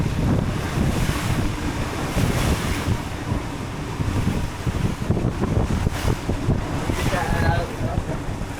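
Sea waves wash around a river cruise boat, a continuous rough rush of surf mixed with heavy wind buffeting the microphone, loud and close throughout.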